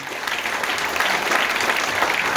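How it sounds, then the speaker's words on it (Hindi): Applause from an audience at a talk, steady dense clapping heard up close and lasting throughout. "एक बार जोरदार ताली बजाइए"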